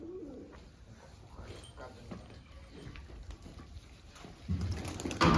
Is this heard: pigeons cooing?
yes